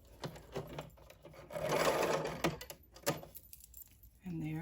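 A domestic sewing machine stitches fabric for shirring in short whirring bursts between pauses, close and fairly quiet, with light handling noises around it.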